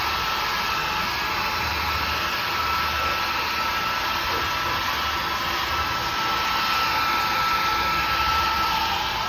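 A hair dryer blows steadily while drying a dog, a loud continuous airy roar with no breaks for the whole stretch.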